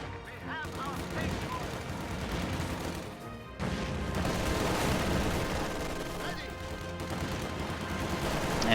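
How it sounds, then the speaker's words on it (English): An MG42 machine gun fires in Company of Heroes, rapid sustained bursts blending with other battle noise, explosions and game voices throughout. "MG42 putting pressure on those combat engineers in cover"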